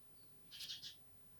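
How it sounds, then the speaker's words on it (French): A bird near a window, heard as a brief cluster of faint, high chirps lasting under half a second against a quiet indoor background. "Il y a un oiseau qui vient à côté de la fenêtre"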